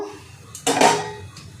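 A metal lid clatters down onto a cooking pot of boiling water for hilsa pulao, one bright ringing clank after a quiet lead-in, then a faint second tap.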